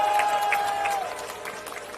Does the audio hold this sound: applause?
yes